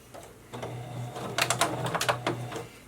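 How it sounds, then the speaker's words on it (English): A sewing machine stitches slowly around the curved edge of a fabric face mask, its low motor hum running steadily with a cluster of brighter mechanical ticks partway through, close and fairly quiet. "And I'm going to sew right on this curve here."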